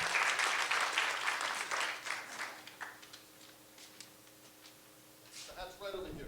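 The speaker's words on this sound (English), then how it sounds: "please, let's give the volunteers on the Housing Task Force a round of applause" Applause from an audience at a community housing forum in Wellfleet, honoring housing task force volunteers; broad clapping fills the opening seconds, then thins and fades into quiet room tone before a voice begins speaking.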